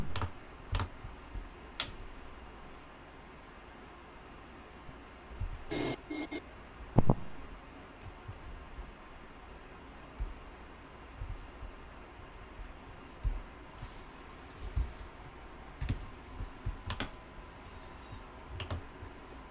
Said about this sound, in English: Is that a keyboard I hear? Some loud keyboard.